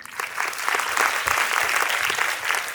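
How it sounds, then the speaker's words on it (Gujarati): Steady, loud applause from a crowd at a school annual day, lots of hands clapping together without pause for a few seconds. "તમામ વિદ્યાર્થીઓ માટે જોરદાર તાળીઓ થઈ જાય"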